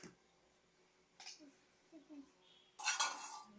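A utensil clinks and scrapes in a cooking pot as a child stirs food, probably while making popcorn. Quiet taps come first, then a louder burst of metallic scraping, with voices in between.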